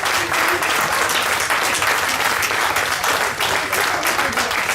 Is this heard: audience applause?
yes